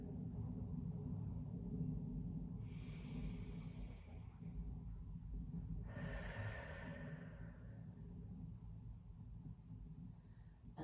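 Two slow, audible breaths during a yoga session, each a soft airy rush lasting a couple of seconds, a few seconds apart, over a constant low rumbling room hum.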